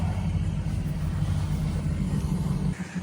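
A boat engine with recently added horsepower idles steadily just after startup, giving a low, continuous rumble near the dock. The level dips slightly near the end, and nobody speaks.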